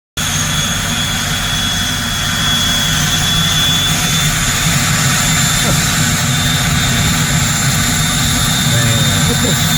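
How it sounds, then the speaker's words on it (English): A jet engine roars steadily and loudly throughout, a constant broad rushing drone with voices faintly present beneath it. "Freaking jet engine."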